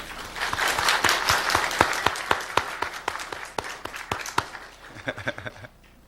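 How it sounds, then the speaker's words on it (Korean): A church congregation claps for a visiting interpreter, a steady run of sharp, fairly close claps that thins into a few stragglers and fades out near the end. "박수 쳐드릴까요?"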